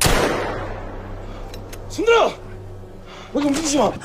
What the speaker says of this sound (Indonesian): Polisi langsung menembakkan pistol dan menyuruh semuanya untuk diam